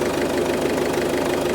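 Ford Fiesta Mk6 1.6 TDCi diesel engine idling steadily just after a new turbo fit, a loud, close, continuous rumble with a slight knocking edge and no voices.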